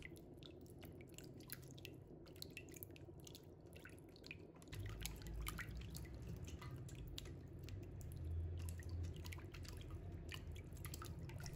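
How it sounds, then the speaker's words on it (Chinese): Pork belly is rinsed by hand in a bowl of clean water to wash off flour, giving soft, faint squishing, sloshing and dripping sounds in a quiet kitchen. "再往里面倒入清水，把它清洗一下，把五花肉表面的面粉清洗干净"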